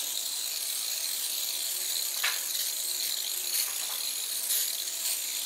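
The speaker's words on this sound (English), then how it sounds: "We're going to spray the glass." A spray bottle of glass cleaner misting the glass door of a wood-burning stove, heard as a steady hissy spray with a few brief sharper bursts, close and continuous throughout.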